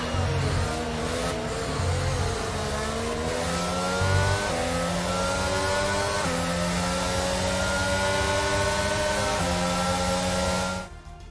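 An F1 race car engine from the F1 22 video game at the Saudi Arabia Grand Prix revs loudly and continuously through rising and falling gear changes, then cuts off abruptly at the end.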